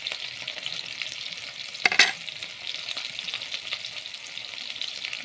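Onions fry in hot oil in a kadai with a continuous close sizzle, broken about midway by a brief louder burst of crackling and spatter, then settling back to a steady fry with no voices.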